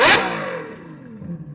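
A Ferrari 812 GTS with a Novatec exhaust gives one sharp, loud rev blip that quickly decays into a fading engine note, close by and with no talking.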